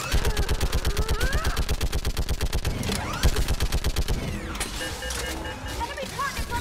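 Rapid automatic gunfire from Mass Effect 3 rattles in a fast, even burst for about four seconds, followed by scattered shots and game effects, with voices talking over the action.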